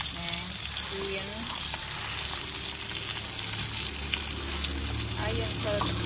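Steamed fish frying in a pan, heard as a continuous close sizzle and crackle with occasional scraping and clinking of a spatula, and no voice over it.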